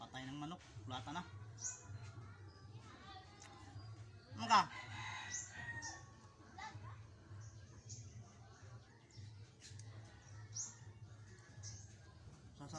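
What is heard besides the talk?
chicken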